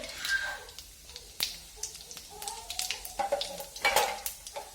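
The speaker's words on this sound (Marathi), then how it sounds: "आणि आपली जी गिरवी का तर ती गिरवी टाकायची आणि त्याला मग चांगली परतून घ्यायची" Drumstick vegetable is sautéed and stirred in a pan, giving a steady soft sizzle broken by repeated scraping and clinking strokes of the spoon against the metal, moderately close.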